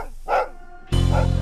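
A dog in a film scene gives a short bark, then a louder, denser burst of sound follows with no voices.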